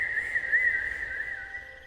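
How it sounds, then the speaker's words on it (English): A close, confident whistle cuts through a night silence, a single sustained tone that bends and wavers in pitch for about two seconds, heard alone without speech. "Then a whistle cut the night."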